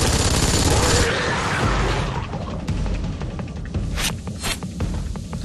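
A heavily recoiling gun in the video game Dark Sector fires in loud, rapid sustained bursts, followed by scattered sharper shots.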